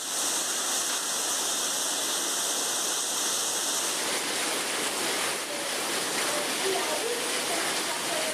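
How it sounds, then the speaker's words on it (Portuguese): A heavy torrent of water pours into a municipal school courtyard like a waterfall, giving a constant loud, hissing rush that stays even throughout. "Essa verdadeira cachoeira que ocorre no pátio do colégio deixa isso bem claro. O volume de água é tão grande que até assusta."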